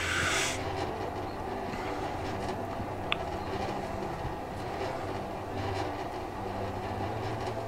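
A train in the game Human Fall Flat rumbles past in a steady, continuous roar with a faint metallic click partway through, filling the clip evenly with no talk over it.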